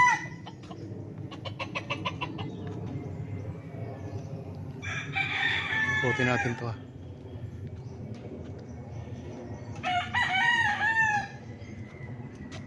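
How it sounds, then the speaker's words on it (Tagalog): Roosters crow loudly and repeatedly nearby while hens cluck in the background on a farm in Nagcarlan, Laguna, and a voice speaks briefly under the farmyard noise. "Daming alagang manok"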